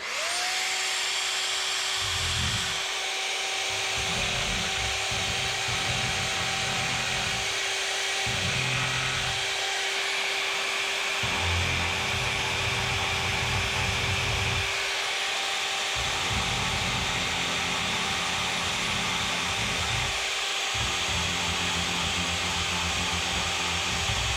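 Hedge trimmer blades being sharpened by scrubbing along their natural contour, a loud, rough grinding that runs in repeated strokes with short pauses between, over a steady tonal whine.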